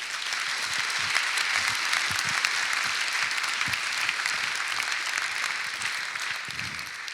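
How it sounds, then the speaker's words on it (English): An audience at a charity evening with Arsene Wenger breaks into a loud, sustained round of applause that lasts several seconds, dense clapping with no voices on top. "So I'd like to give a big round of applause for the charity."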